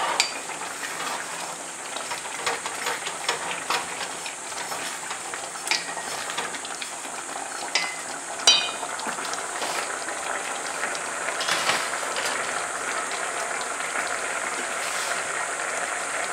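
Risotto alla milanese simmering gently in a pot after a ladle of broth goes in, a soft steady bubbling hiss with scattered light clicks and occasional stirring scrapes, quiet and even throughout.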